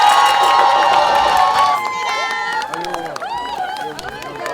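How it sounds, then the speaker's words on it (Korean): A campaign-rally crowd in Yangsan roars and cheers for former party leader Moon Jae-in. The loud, dense wall of cheering thins into scattered shouts and calling voices. "우리 문재인 전 대표님께 다시 한번 힘찬 박수 한번 보내주십시오"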